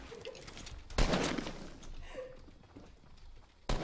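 Gunfire from a sniper rifle in a shooting video game, one sharp loud shot followed by a fainter crack near the end over low game ambience, with faint voices in the background.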